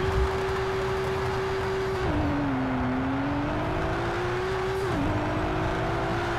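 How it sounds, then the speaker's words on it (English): A Toyota Supra race car engine in the Project Cars 3 racing game holds a steady, loud drone, dipping briefly through two gear shifts and then climbing again, with no voices. "play this replay, let you guys enjoy the engine sounds"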